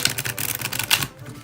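Thin-cardstock tarot cards are shuffled close by, making a run of quick, crisp riffling clicks that fade into quiet near the end.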